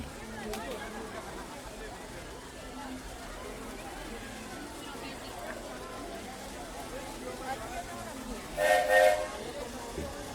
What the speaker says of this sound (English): And it's a real steam train too.